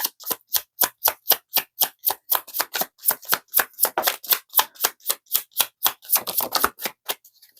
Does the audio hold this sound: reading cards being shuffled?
yes